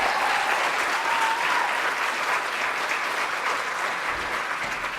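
Large crowd applauding at a live stage show, a loud, thick, continuous wash of clapping that holds steady throughout.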